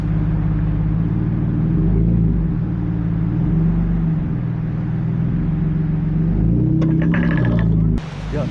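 A car driving slowly in reverse with a little gas, a steady low engine rumble with slight rises and falls, a clunk and rattle near the end.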